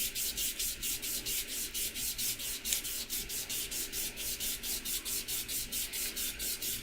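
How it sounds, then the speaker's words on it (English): A knife blade is hand-sanded with 600-grit sandpaper in steady, rhythmic back-and-forth strokes, about three per second. The sound is a close, quiet scratchy rubbing, with no talk. "I hit it a little bit with the sandpaper."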